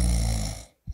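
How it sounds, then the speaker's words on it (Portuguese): A sleeping duke snoring loudly in a bedroom, with one long, deep, rattling snore close by that fades out, then a brief breath starts at the end. "Ao me levantar para explorar a origem de um som que lembrava os de um urso roncando, descobri Angus, o duque adormecido."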